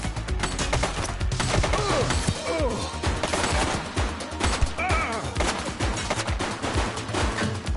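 Gunfire in the video game The Precinct during a police shootout with a suspect: dense, loud, continuous bursts of rapid shots overlapping one another without pause.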